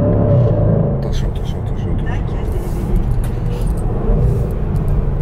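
A Range Rover SVR with its exhaust valves open gives a loud, deep, continuous engine rumble close by, with voices talking over it.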